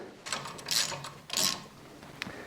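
A hand ratchet tightening skid plate bolts on a BMW F900GS motorcycle, heard as a few close bursts of rapid clicking with brief pauses between strokes and a sharp tick near the end.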